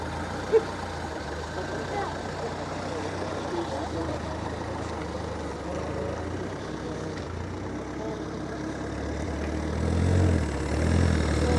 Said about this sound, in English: If you want to hear what the engine sounds like, nearly 100-year-old engine, here it is.